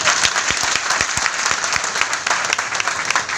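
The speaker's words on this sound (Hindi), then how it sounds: "जोरदार ताली बजाओ उनको" A crowd at a Nishad Party political rally claps loudly and continuously, dense overlapping applause with a few sharper individual claps standing out.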